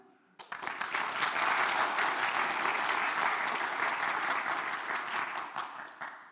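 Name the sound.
round of applause for conference sponsors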